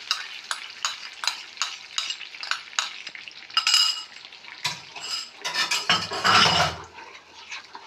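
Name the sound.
stirring flour and milk into butter in a pan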